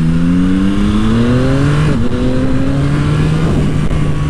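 A 2024 Yamaha MT-09 motorcycle engine revs hard and climbs in pitch, briefly dips at a gear change, then keeps pulling in a loud, continuous, close-up roar with wind noise.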